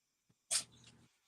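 A single sharp sneeze bursts out close by, a quick airy blast followed by a brief rough exhale, with a tiny sniff just before it.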